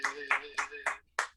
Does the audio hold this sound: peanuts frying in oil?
no